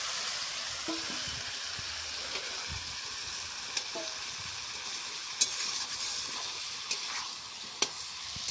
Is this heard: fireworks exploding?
no